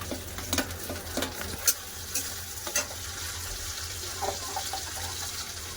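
Chopped tomato and onion fry in a hot pan with a continuous sizzle, broken by several light scrapes and clicks of stirring, all close and unaccompanied by speech.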